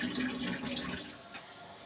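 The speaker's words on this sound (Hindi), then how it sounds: "ये देखें मैंने इसमें पानी डाल दिया है।" Water poured into a pot of cooking vegetables for an Indian mixed-vegetable dish, a soft continuous splashing pour that fades after about a second, close and quiet.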